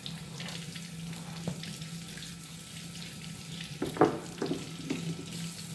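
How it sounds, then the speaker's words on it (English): Tap water runs steadily over peeled pineapples in a kitchen sink, a close, continuous hiss with a few louder splashes and knocks near the end. "Now I'm going to rinse them real good"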